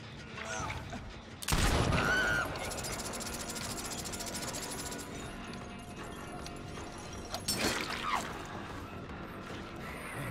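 Gunshots from the Deathslinger, the harpoon-gun killer in the online horror game Dead by Daylight, fire in one sharp loud blast and then a second burst amid the game's ambient noise and music.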